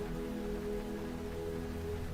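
Steady rain falls in a continuous broadband hiss, evenly textured and unbroken, with no voices over it.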